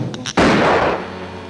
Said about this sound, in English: A big fat rat would shoot a guy in the back.